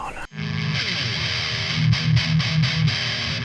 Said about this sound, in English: We'll turn the distortion on the Rat down just a little tiny bit here.